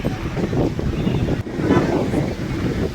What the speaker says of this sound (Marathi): ही बघा आता मस्तपैकी लाट आली बघा डेंजर